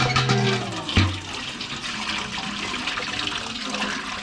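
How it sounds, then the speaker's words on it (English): Coolant gushes out of a pulled radiator hose on an Autozam AZ-1 into a steel bucket, a close, loud splashing pour after a brief clunk, continuing as a steady watery rush. "I'm gonna remove this and drain the coolant"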